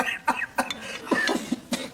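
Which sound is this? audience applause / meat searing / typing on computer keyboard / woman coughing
woman coughing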